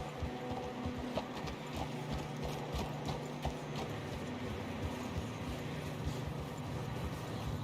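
Horse hooves clip-clop at a steady walking pace amid soft game ambience and faint mechanical clicks.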